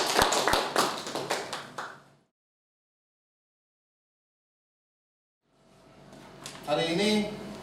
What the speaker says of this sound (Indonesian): Silakan duduk, tepuk tangan untuk Maulis ya.